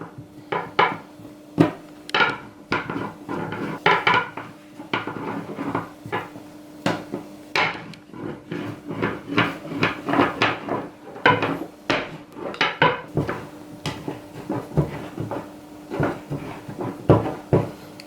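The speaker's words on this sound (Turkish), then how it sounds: "Un ile tezgaha unluyorum. Oklava yardımıyla açıyorum." A rolling pin works lavash dough on a floured countertop, making repeated knocks, thuds and rolling rumbles in an irregular rhythm, close and fairly loud, with no voices.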